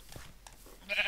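A single short sheep bleat from the Minecraft video game, heard up close, with no talking.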